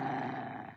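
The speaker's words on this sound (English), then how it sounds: "He's growling at Bill right now" An eight-year-old dog growls in a steady, continuous low rumble, close and moderately loud, fading slightly at the end, with no talking.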